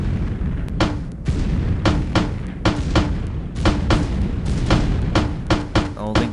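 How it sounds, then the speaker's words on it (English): Blasts ring out in the Delta Force: Land Warrior video game as a grenade is fired through a floor: a run of loud, sharp booms and shots in quick irregular bursts over a rumbling background. "I'm shooting a grenade through the floor"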